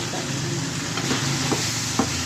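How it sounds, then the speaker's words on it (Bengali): Vegetable bhaji being stirred into a hot pan of freshly fried dried chillies and garlic tempering, a steady loud sizzle with a few scraping stirs of the spatula, close up and with no talking. "এখন এটা একটু ভালোভাবে মিক্স করে নিব।"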